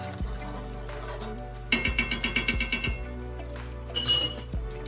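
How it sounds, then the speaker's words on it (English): A utensil scrapes and clinks against a skillet while ingredients for chicken and oatmeal bites are stirred, a quick run of rhythmic metallic taps followed by softer scraping over a low, steady background hum. "But I'm just going to put that in there and stir it around."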